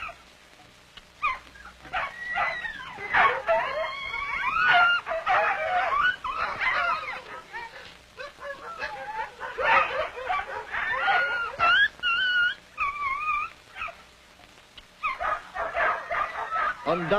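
A sled dog team in a fan hitch barks, yips and whimpers in an excited, overlapping chorus of bursts with brief lulls between them, loud and close.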